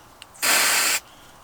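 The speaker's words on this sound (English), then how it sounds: "spray the activator on it." Glue activator sprayed from an aerosol onto a piece of wood during a model Harrier build: one steady hiss lasting about half a second, close and fairly loud, with a faint click just before it.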